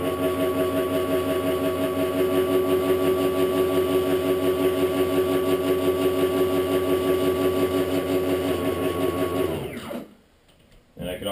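A stepper motor drives the platform of a DIY Arduino Uno-controlled vacuum forming machine, giving a steady, close mechanical whine with a buzzing rhythmic texture that holds for about nine seconds, then cuts off into near silence.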